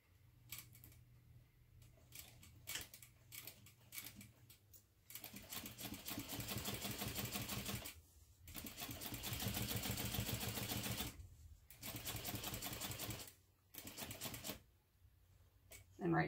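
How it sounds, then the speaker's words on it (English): A sewing machine runs close by, top stitching along the side of a bag zipper in several bursts of steady rapid whirring separated by short pauses. "I'm going to top stitch just along this side of the zipper"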